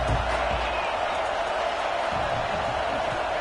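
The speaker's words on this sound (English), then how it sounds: "This crowd ready to make its presence known." Steady roar of a college football stadium crowd during a game, a dense wash of noise with no distinct peaks, filling the whole stretch evenly.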